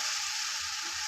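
Flour batter hits hot oil and sizzles in a bright, continuous hiss, steady and close for a brief moment with no speech.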